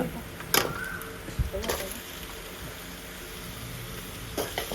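Beef being stirred in a pan with curry leaves, ginger-garlic paste and onion, a soft steady sizzle broken by a few sharp scrapes and knocks of the spoon, close by and moderately quiet.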